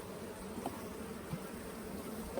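Honeybees drone steadily around hives set out on pallets at a watermelon pollination site, a soft continuous buzz heard from close by with no talk.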